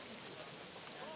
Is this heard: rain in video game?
yes